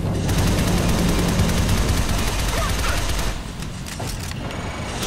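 Sustained rapid gunfire in Shadow Complex Remastered, a loud continuous burst of shots that eases to a lower level partway through, with faint game sounds behind.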